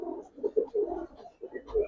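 Giribaz pigeons coo in a loft, low throaty rolling phrases repeating in pulses close by, with no talk over them.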